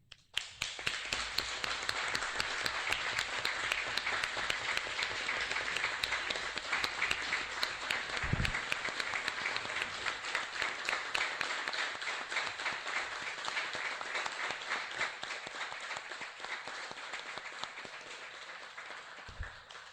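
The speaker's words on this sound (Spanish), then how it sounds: "yo personalmente solicito un aplauso para los atletas y los padres de familia y entrenadores" Sustained applause from an audience at an official extraordinary session, honoring athletes, parents and coaches; dense, steady clapping fills the full stretch at close range, slowly tapering toward the end, with no talk over it.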